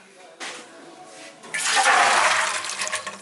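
Soaked beans for Greek bean soup (fasolada) being poured off into a kitchen sink, a rushing gush of water that swells after a softer start and runs steadily to the end.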